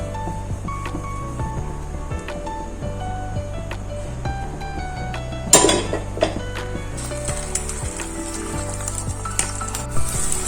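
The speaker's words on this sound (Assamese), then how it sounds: "এয়া মই এতিয়া 2টা কণীৰে 2খন অমলেট বনাই ল'লোঁ।" Beaten eggs fry as two omelettes in hot oil in a wok, a steady close sizzle with occasional pan clinks and a louder clatter partway through.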